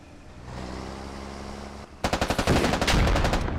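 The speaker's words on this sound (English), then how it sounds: "Another RPG shot misses the MRAP." Gunfire and blasts from the military shooter game Squad as an RPG is fired at an MRAP and misses: a steady low engine-like rumble, then from about two seconds a loud burst of rapid, rhythmic automatic shots and explosive cracks.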